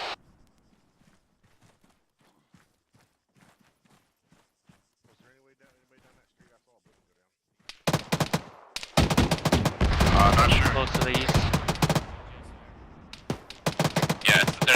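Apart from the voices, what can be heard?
autocannon fire in video game ArmA 3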